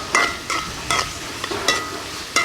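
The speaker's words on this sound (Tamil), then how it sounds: "எல்லாம் போட்டாச்சு கொஞ்சம் இது வதங்கணும் பொறிஞ்சி வதங்கி வடிவா வரும்" Ingredients for a village-style murrel fish curry sauté in a pan, with short bursts of sizzling and scraping stirs at a steady rhythm, about every half second, close up over a low background hiss and without speech.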